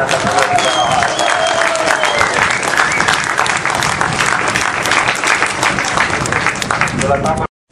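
A crowd applauds and cheers at a drifting championship event at Kemora, dense sustained clapping, loud and close, with voices mixed in and a brief drop to silence near the end.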